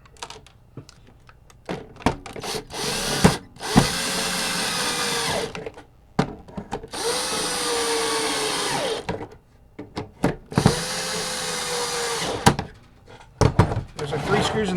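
A power screwdriver with a large Phillips bit whirs in several bursts, driving screws into a Nintendo NES console, with clicks and knocks of handling in between.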